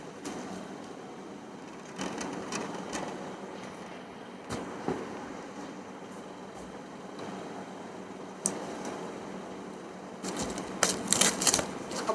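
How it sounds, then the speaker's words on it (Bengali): Crinkly rustling and crackling of a parcel wrapped in bubble wrap being unpacked indoors, steady close handling noise with sharper crackly bursts near the end. "তো চলো চটপট করে আনপ্যাক করে নিই।"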